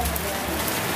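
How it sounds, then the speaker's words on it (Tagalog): Heavy rain pours down in a dense, steady hiss, loud and close, with no break or other sound above it. "Grabe, lakas ng ulan, Ted."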